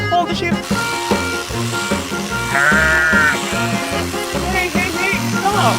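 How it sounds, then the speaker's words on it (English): Sheep bleat loudly and repeatedly over a rhythmic musical backing at a sheep-shearing scene, the animal cries rising above steady beats. "Mario, hold the sheep."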